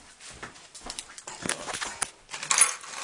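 Keys jangle and clink in bright metallic bursts while a door is being locked, with irregular rattles building to a louder jingle near the end.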